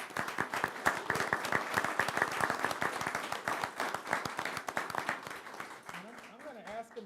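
A university advisory board meeting audience gives steady, moderately loud applause for two award recipients. The dense clapping continues for several seconds before fading, with a voice briefly audible near the end.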